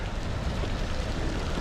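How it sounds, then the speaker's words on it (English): Rain falls during kayak fishing for striped bass near New York City bridges, a dense, steady hiss of drops on water and surfaces, close and continuous with no voices. "it is raining."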